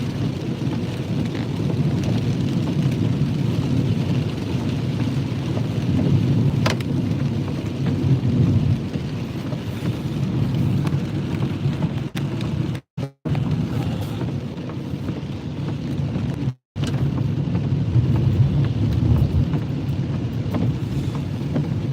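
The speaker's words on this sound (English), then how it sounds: "that's coming down. Lots of rain" Heavy rain pours steadily near a convergence zone during a storm chase, a dense, continuous roar with low rumbling thunder underneath and a couple of brief dropouts, no voices.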